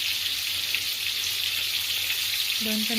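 Chicken frying in a pan gives a bright, even sizzle for a few seconds, close and fairly loud, with a brief tonal sound near the end.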